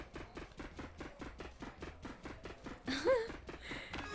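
Rapid, evenly spaced knife chops on a board from the cooking game Overcooked tap out a steady rhythm, joined near the end by a brief burst of game sound effects and a short vocal exclamation.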